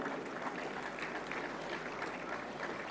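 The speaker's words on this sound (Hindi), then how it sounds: "सर्वश्रेष्ठ फिल्म के लिए जोरदार तालियां।" Sustained loud applause from a ceremony audience at a national film awards event as the best film honour is presented, steady clapping filling the whole stretch with no voices on top.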